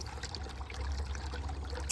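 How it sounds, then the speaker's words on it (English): Tap water running steadily into a basin, a continuous close splashing rush with low rumble, alone with no voices. "This water gets loud."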